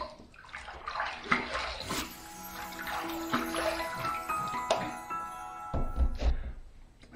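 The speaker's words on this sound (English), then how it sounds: "as the third pass done, let's rinse" Water splashes and trickles from a tap into a sink as a face is rinsed after a shave with bay rum shave soap, with soft knocks and a jingle in between, moderately close and with no talk.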